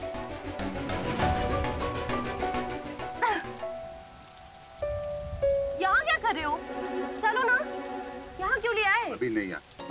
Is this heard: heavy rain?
yes